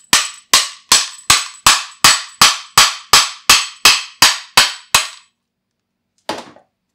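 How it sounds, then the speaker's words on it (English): Heavy hammer blows strike a SARIS smart trainer during a teardown, about fourteen sharp, evenly spaced metallic impacts in a steady rhythm, close and loud, followed by a pause and one softer knock. "Time for the hammer again."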